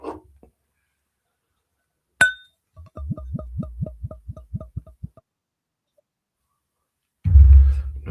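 Bourbon bottled at 48.2% ABV is poured from the bottle into a clean glass. A bright clink on the glass is followed by a steady run of rhythmic glugs, close and clear, then a short thump of handling.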